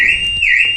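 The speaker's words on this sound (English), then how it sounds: "the alarm's gone off." A loud, piercing electronic van alarm tone wails steadily, rising and falling in pitch, close by, on a 2017-onwards Toyota Proace, Peugeot Expert, Vauxhall Vivaro or Citroen Dispatch.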